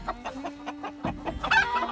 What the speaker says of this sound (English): That's the poopy chicken.